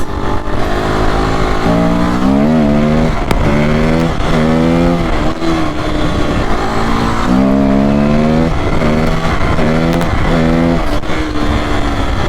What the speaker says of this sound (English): I wouldn't say this bike has wearables, but it does make little popping noises